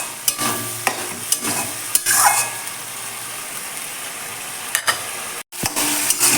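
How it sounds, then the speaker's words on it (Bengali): Spice masala with sour yogurt and ground black pepper is stir-fried for a duck egg curry. A spatula scrapes and taps the pan in an irregular rhythm over a steady frying hiss, close and fairly loud, with no voices. "এবার আবার মশলাটা সামান্য কষতে দেব"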